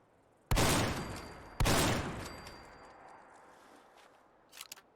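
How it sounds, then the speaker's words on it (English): Two loud, close blasts from a Sjogren Inertia shotgun in Fallout 4, each with a long fading echo, followed by a few faint clicks of handling. "I fired 3 shots"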